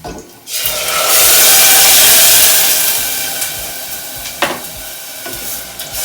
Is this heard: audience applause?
no